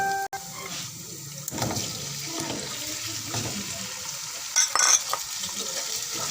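Chicken pieces tipped into a pan of lightly browned frying onions: a sharp knock, then a loud burst of sizzling that settles into steady close frying with stirring scrapes and a brief rattle near the end.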